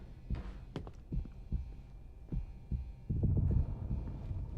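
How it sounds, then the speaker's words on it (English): A heartbeat and a small electrical twanging noise woven into the music of the video game Get Even: soft, regular double thumps repeating every half second or so, over a low hum that swells near the end. "And now our heartbeat and this little electrical twanging noise have joined the music too."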